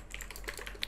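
Brief burst of quick, close keystrokes on a computer keyboard while writing DAX code, several light irregular clicks with no talk.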